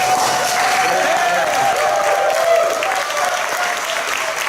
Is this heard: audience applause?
yes